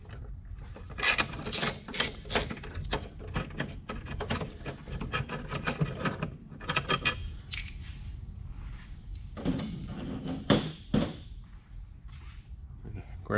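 Ratchet wrench loosening a 12mm bolt on a brace in the engine bay of a 2018-2020 Kia Stinger GT 3.3L, rapid close clicking bursts in several runs separated by brief pauses and faint handling noises.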